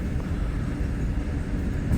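Bombardier 3000 commuter train on the Exo line starting to move in snowy conditions, a steady low rumble of wheels and motors, loud and continuous with no voices.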